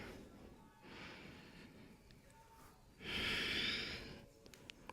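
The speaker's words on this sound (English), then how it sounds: "Let's take 3 more breaths here." Two slow, soft breaths during a calm yoga stretch, each a gentle breathy whoosh with the second louder and longer, close and quiet in a still room.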